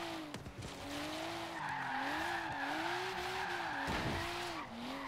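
Nissan S15 drifting in Forza Horizon 3, a continuous engine note rising and falling with shifting tire squeal layered over a steady loud roar for the whole stretch.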